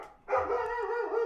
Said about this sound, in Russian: Блин, у меня собака залаяла.